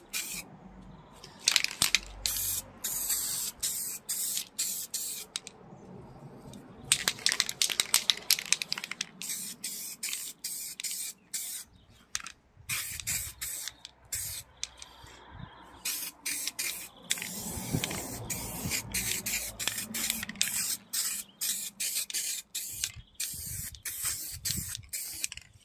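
Spray can applying primer to Bizon Zelmot headlamp frames, with repeated short hissing bursts of varying length and short pauses between them, close and steady with no talking.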